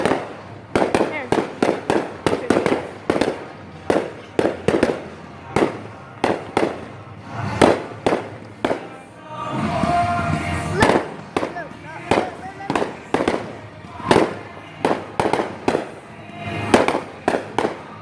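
July 4th fireworks burst in a steady run of sharp, crackling pops like popcorn, loud and close, with a denser crackling patch midway; voices speak between the bangs.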